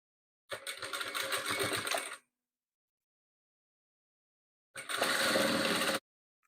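Sewing machine running in two steady bursts, stitching rows of patchwork quilt pieces together; a longer run of about a second and a half, a pause, then a shorter, louder run, close and with no talk.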